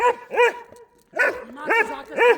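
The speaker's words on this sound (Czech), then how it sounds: "Přestaň štěkat, sedni si." Nearby, a dog lets out five sharp, clear barks in two groups. Two barks come first, then a short pause, then three more, and no other sound competes with them.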